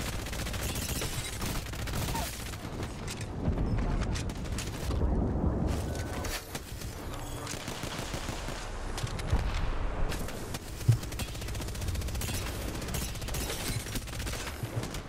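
Rapid gunfire and bursts of shooting fill an Apex Legends battle, sustained and dense throughout with a sharp louder shot near the end, mixed with in-game effects.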